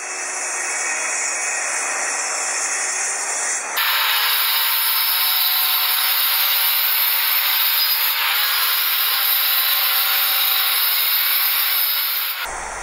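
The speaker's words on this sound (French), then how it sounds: "Tout d'abord à la scie plongeante sur rail pour les gros morceaux, tels que les côtés, le fond," A plunge saw on a rail cuts through large wood pieces for a furniture build, giving a loud, steady high-pitched whine that jumps in pitch and intensity as the blade enters the board and then stops abruptly. No speech.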